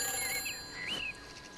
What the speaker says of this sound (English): Oh, phone's ringing again.